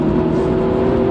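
A 2020 Mini John Cooper Works DT Edition hatchback flicks through a tight chicane, its engine a steady, loud, close-up drone with no speech over it.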